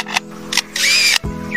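A lyrebird mimics a camera shutter and motor drive: several short, bright clicks and whirring bursts, the longest a sustained mechanical whine, close and fairly loud, with no other voices.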